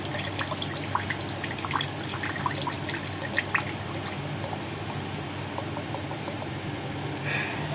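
Coconut water trickles out of a freshly opened coconut, heard as soft, irregular drips and small splashes, faint and close, with no voices.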